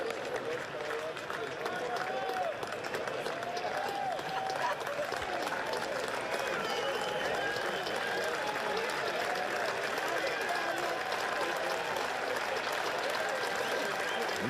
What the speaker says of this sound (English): You can hear the Cardinal fans who have stuck around applauding.